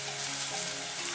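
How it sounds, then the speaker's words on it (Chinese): Chopped garlic and onion sizzle in a hot wok, a steady, close frying hiss with no talk, in a home kitchen making pepper shrimp. "重新起锅，把切好的蒜头跟洋葱碎放进来炒香"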